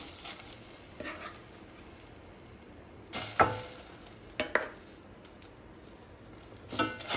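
Cooked vegetables scraped and spooned into a pot to form the bottom layer of a restaurant-style vegetable dum biryani, with a few distinct soft thuds and stirring scrapes over a quiet, steady kitchen background.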